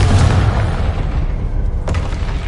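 A Confringo spell explodes in Hogwarts Legacy, a heavy booming blast up front that tails off into rumble, followed by a second sharp burst near the end.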